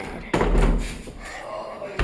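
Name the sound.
door being pushed shut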